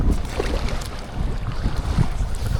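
A small fishing boat rides through big offshore waves, with loud continuous rumbling wind buffeting and engine noise, plus splashing surges of water against the hull; no one talks.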